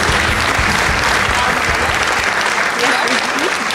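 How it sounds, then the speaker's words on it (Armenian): Sustained loud applause from a large indoor audience, thick steady clapping with faint crowd noise mixed in. "Բարձր ծափարեք, ես թվեմ"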